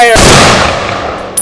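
A ceremonial rifle volley fired by an honor guard at a volunteer fire company event, heard as one sharp, very loud gunshot crack with a long decaying echo, then a faint second report near the end.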